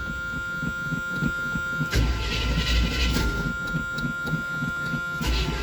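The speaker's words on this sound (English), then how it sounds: "Always has a squeaky belt till it gets warmed up." A 1978 GMC truck engine runs with a squeaky belt not yet warmed up, a steady mechanical hum carrying a repeating high squeal, close and continuous, with a brief louder surge partway through.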